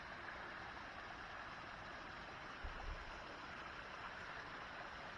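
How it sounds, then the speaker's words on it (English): A small waterfall spilling down a rock cliff in winter, a steady, faint, even rush of falling water with no other sounds. "I have waterfalls."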